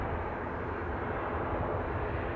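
An Aer Lingus Regional ATR 72-600 turboprop taxis toward the runway at Manchester Airport, its engines producing a steady, broad rumbling drone heard from a distance, constant and uninterrupted with no voices.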